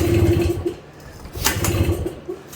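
An old motorcycle engine cranks and sputters without catching, two rough low bursts of turning over with a short lull between, loud and close.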